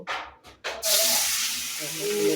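Baim eel fish, marinated with turmeric, chilli and salt, drop into hot oil in a village kitchen. A loud, sustained sizzle bursts up and continues after a few words of talk.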